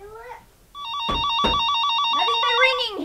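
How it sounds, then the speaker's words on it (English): A telephone rings with a steady, trilling electronic warble that repeats without pause, loud and close, while a voice talks over part of it. "Nothing but ringing here. Oh, my goodness. I guess it must be the phone."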